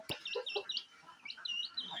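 A young rooster clucks and chirps in short, repeated calls at close range, with faint bird chatter in the background.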